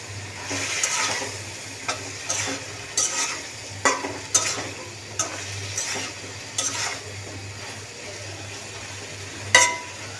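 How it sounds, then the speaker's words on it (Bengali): Vegetables stirred into fried spices in a pan, a soft continuous sizzle under frequent sharp spatula scrapes and knocks against the pan, close by, with no one talking. "এখন আমি এখানে সবজি দিয়ে দেব। সবজি দিয়ে ভালোভাবে নেড়ে চেড়ে"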